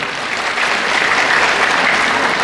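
Steady applause from an audience in the ballroom of Hotel Santika Premier, Padang, during a school reunion event, a dense, continuous clapping that swells slightly and holds at a fairly loud level throughout.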